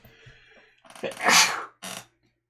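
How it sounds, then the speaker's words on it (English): A short sneeze bursts out after some quiet murmuring, followed by a smaller second burst, close to the listener. "God, my sneeze."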